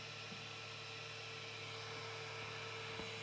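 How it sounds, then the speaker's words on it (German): A Tronxy X5SA 3D printer's stepper motors drive its head to the park position with a thin, steady high-pitched whine over a low hum, quiet and continuous, with a small click near the end. "Drucker fährt in Parkposition."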